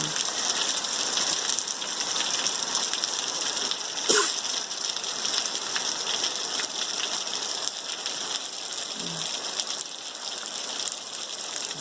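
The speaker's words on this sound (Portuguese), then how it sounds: "Chuva caindo na plantação." Rain falls steadily on a rural plantation as an even, close hiss of drops on foliage and ground, with one brief knock partway through and no voices.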